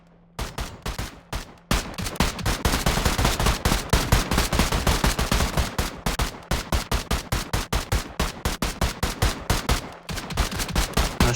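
Rapid automatic gunfire rattles through shooting practice in a video game, long fast bursts of loud, closely spaced shots with brief pauses and a reload gap near the start.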